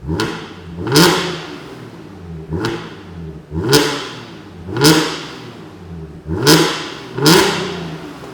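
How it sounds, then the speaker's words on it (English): An Audi S4/S5 engine with an X-pipe exhaust revs repeatedly, each blip rising into a raspy, crackling exhaust roar before dropping back to a burbling idle, six or so times. "let's see what it sounds like revving it"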